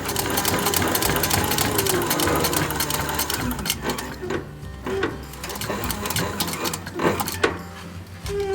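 Sewing machine stitching together cut leather pieces for a rucksack, running steadily and loudly for the whole stretch with a dense mechanical whir and rapid needle clatter, and no talking.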